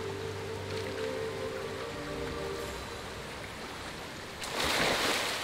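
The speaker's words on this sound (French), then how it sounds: "Est-ce qu'il y a quelque chose derrière la cascade?" A waterfall in the video game Hogwarts Legacy gives a steady, rushing wash of falling water, with a low hum beneath and a louder surge of spray near the end.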